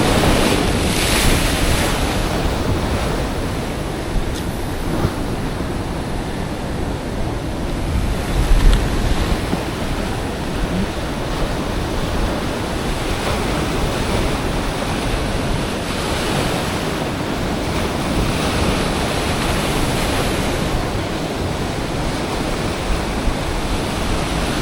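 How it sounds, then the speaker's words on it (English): Ocean surf breaking and washing along a beach at a rip-tide stretch, a steady broadband roar of waves with wind buffeting the microphone throughout, one slightly louder surge midway, no voices. "You can feel the waves"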